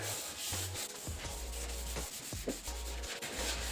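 Hand sanding on a spray-painted model car body: steady rasping back-and-forth strokes, close and continuous, with no voices.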